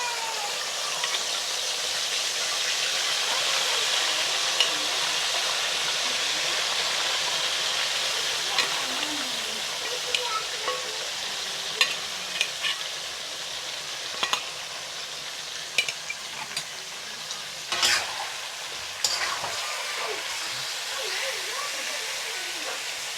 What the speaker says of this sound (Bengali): এখন আমি এই তেলেই মাংসটা ভেজে নেব।